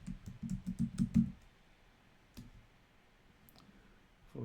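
A password is typed on a computer keyboard as a quick run of close, soft key clicks, then a pause and a couple of single taps, with no talking.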